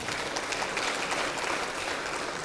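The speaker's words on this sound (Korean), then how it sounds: "이해찬 대표님께 다시 한번 큰 박수 부탁드립니다." Lawmakers at a Democratic Party workshop give sustained applause, dense and even clapping from a large room that holds steady throughout and sounds somewhat distant.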